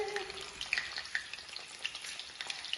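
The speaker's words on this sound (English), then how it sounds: "Now, you don't want to have this up too high, because you're just going to kind of like blanch it" Pickled fish for Easter dinner fries skin side down in a pan, a steady soft sizzle with scattered little pops and crackles, no talking.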